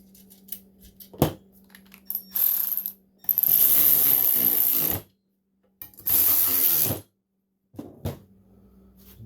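A ratchet wrench tightening fresh stainless bolts during a rectifier replacement on a 2004 Sea-Doo XP DI, several bursts of quick clicking with a few sharp knocks between them, close and clear.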